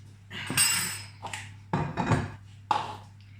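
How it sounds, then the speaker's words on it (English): Egg and vegetables for a sweet potato and pepper frittata are mixed in a pan, giving a few bursts of clinking utensil strokes against the pan with short pauses between, fairly close. "give this a quick mix around."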